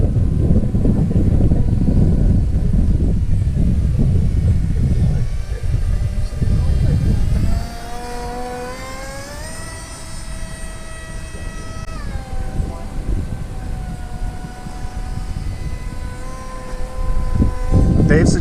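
An F-22 Raptor model RC plane on its maiden flight, its motor whine rising and shifting in pitch as it passes overhead, heard near and steady after wind buffets the microphone early on.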